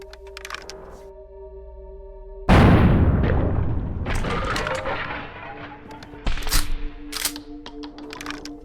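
A sawed-off shotgun in Buckshot Roulette fires one loud, booming blast that rings out and decays over a low electronic hum, followed later by a second shorter crack.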